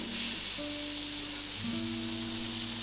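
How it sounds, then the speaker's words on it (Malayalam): Paneer pieces grill in butter in a pan over low to medium flame, giving a steady, close sizzling hiss that carries on throughout with no talk over it. "ഈ പനീർ ഗ്രില്ല് ചെയ്തെടുക്കാം"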